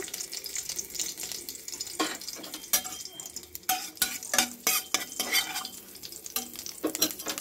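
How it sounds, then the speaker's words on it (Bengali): Whole garam masala frying in hot oil in a kadai as a tempering for dried ribbonfish bhuna, a continuous sizzle broken by irregular scraping and knocking of a spoon, close and moderately loud. "তেলে দিয়ে দিলাম ফোড়ন হিসেবে গরম মশলা"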